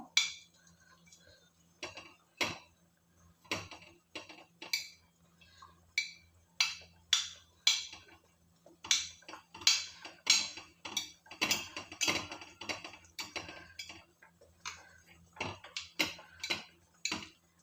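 Ripe plantain being mashed with a strong ladle in a pot, giving repeated sharp metallic clinks and scrapes in an irregular rhythm, close and fairly clear, with no talking.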